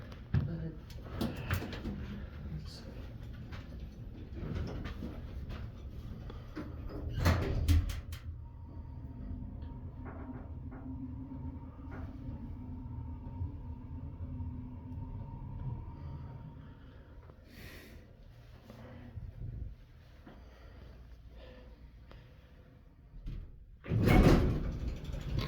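A Schindler RT hydraulic elevator in Garden City, New York runs with a low steady motor hum, its doors sliding and thudding at intervals, under quiet voices.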